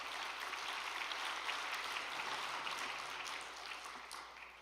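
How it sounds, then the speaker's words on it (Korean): Applause from a large gathering of trainees in a hall honoring their spiritual parents, a steady, moderately distant wash of clapping lasting throughout and fading slightly near the end. "참 아버님과 또 어머님께 감사의 박수를 올려주시기 부탁드리겠습니다"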